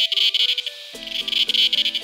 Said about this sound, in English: The cicada can make a sound so loud it can damage your eardrums.